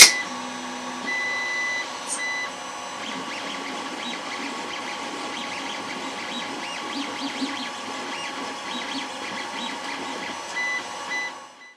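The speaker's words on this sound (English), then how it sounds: "the majority of the sound on that 3D printer comes from the board itself" A 3D printer whines and buzzes as its stepper driver board chops current to the motors, giving a steady mechanical hum with shifting high-pitched tonal chirps, close and continuous with no talking.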